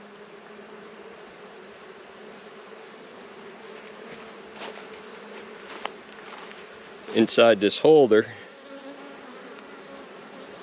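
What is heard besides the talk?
honeybees buzzing around hive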